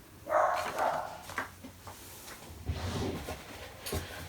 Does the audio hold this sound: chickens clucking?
no